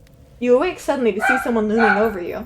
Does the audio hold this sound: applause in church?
no